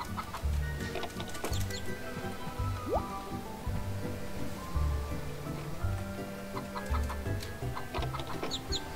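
Chickens in the farming video game Harvest Moon: Save the Homeland cluck repeatedly in short, regular bursts over looping game music, with faint rain-like patter beneath.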